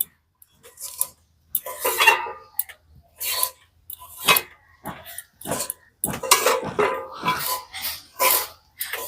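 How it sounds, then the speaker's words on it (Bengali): Puffed rice is mixed with jaggery in a pot, making bursts of dry rustling and scraping that come in uneven strokes with short pauses, near and moderately loud, no voices. "আরো কিছুটা খই নিয়ে মিশিয়ে দিচ্ছি"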